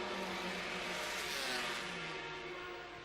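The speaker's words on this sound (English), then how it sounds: "The Honda from Stefan Mertens, and also a two-stroke." A two-stroke Honda classic racing motorcycle screams past on the start-finish straight at Estoril, its high, buzzing engine note loud and sustained as it sweeps by, then fading slightly at the end.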